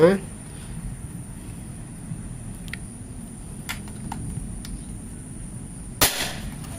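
A single sharp, loud shot from a folding 40 cm mini AK PCP air rifle with a Monel OD 25 barrel at 3000 psi, firing a Mimis Cannon Dome pellet. The crack comes near the end after a stretch of low background hiss.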